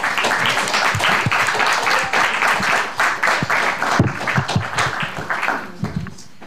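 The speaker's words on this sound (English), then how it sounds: "Please applaud them." An audience applauds after a debate at a café collaboration event on resilience and solidarity; a moderate wash of clapping with distinct nearby hand claps standing out, tapering off toward the end.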